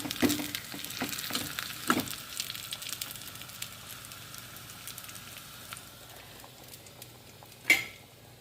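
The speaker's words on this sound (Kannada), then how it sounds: "ಈ ಒಗ್ಗರಣೆಯನ್ನು ಇದಕ್ಕೆ ಹಾಕಿಕೊಂಡು ಗ್ಯಾಸನ್ನು ಆಫ್ ಮಾಡಿಕೊಳ್ಳೋಣ" A hot oil tempering is poured into a sprouted horse gram curry, a traditional GSB ambat, giving a burst of crackling sizzle that gradually dies to a faint simmer, then one sharp pop near the end.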